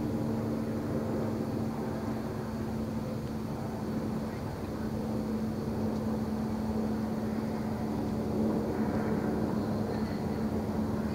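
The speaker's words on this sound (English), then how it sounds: "It's not a helicopter at all, but it's making a helicopter sound." Two lights in the night sky looping slowly over a neighborhood give off a helicopter-like sound: a steady low droning hum with a constant tone that holds throughout at moderate distance.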